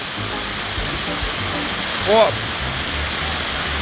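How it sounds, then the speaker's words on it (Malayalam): Very heavy downpour during road tarring in Thrissur, a dense, steady roar of pouring rain filling the whole clip, with a brief exclamation from a voice partway through. "ഇവിടെ കോരിച്ചൊരിയുന്ന മഴയാണ്."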